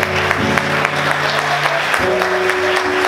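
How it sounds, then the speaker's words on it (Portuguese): A church congregation claps during a Sunday morning service, a dense wash of applause sustained throughout, with organ or keyboard tones sounding steadily underneath. "Você pode dar glória a Deus e aplaudir Jesus essa manhã"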